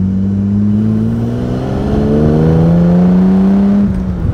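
A Jaguar SS 100 recreation with a 1959 engine pulls away after a gear change, its loud close exhaust note climbing steadily in pitch over several seconds before a brief dip at the next shift.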